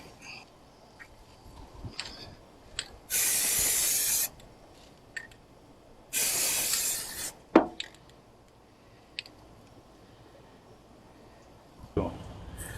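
A spray can painting parts on a wrecked Pontiac Fiero, two loud steady hissing bursts of about a second each, close up, followed by a few light knocks and clatters.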